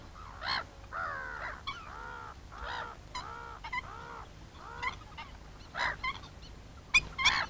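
Waterbirds at a lake with islands, black-winged stilts, black-headed gulls and common terns, call in a busy, repeated series of harsh, nasal cries, moderately distant and fairly faint.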